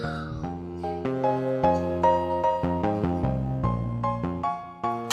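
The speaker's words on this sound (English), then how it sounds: "that is the sound of like fingerstyle bass that's midified" A MIDI fingerstyle bass from a 1995 video game soundtrack plays a melodic line of plucked notes, each one striking and then fading, in a steady rhythm with no voices.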